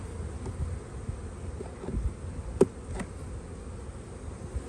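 Honey bees hum steadily around an open hive during a spring inspection, a close, low buzzing drone with a couple of individual bees zipping right past the microphone.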